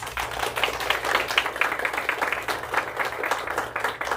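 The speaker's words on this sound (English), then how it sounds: "Let's give them a round of applause" Applause for the staff at a ribbon cutting for a Rise & Walk machine, a dense patter of clapping from a small crowd that runs steadily from start to end.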